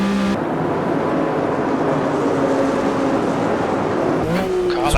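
A Porsche 911 RSR 3.0 racing engine in the AMS2 sim on the 1970s Red Bull Ring gives a loud, continuous drone that holds steady, then briefly shifts near the end.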